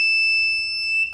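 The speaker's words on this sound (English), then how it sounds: "the alarm will beep" A student-built door security alarm beeps in a fast run of short, shrill electronic pulses over a steady high whine, close and loud.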